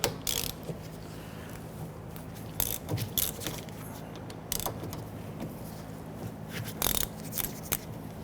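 Ratchet wrench loosening the two 14mm brake caliper bolts on a 2006-2014 Honda Ridgeline, with quiet clicking and sharp metallic snaps spread across the clip and scattered clanks between them.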